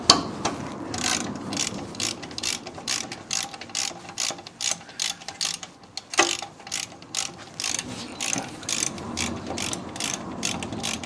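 Rapid ratchet clicks working a bolt loose on a Land Rover heavy duty axle, coming in repeated short bursts of clicking with brief pauses, close and clear in a garage.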